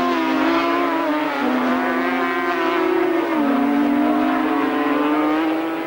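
Racing sidecar outfits scream past at about 110 mph through Hollywood and Craner curves at a race circuit. The high-revving engines wail loudly and sustain, the pitch dipping and shifting as they pass close by.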